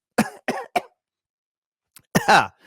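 Three quick coughs in a row, a pause, then a harsher cough with a throat clear, close and loud.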